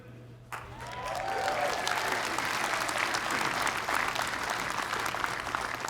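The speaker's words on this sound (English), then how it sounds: "for your family members and friends around the world to cheer so loudly that we can hear them in Pittsburgh" A commencement crowd claps and cheers at a university undergraduate ceremony, a sustained broad wash of applause with scattered whoops rising just after a sharp onset and holding steady throughout.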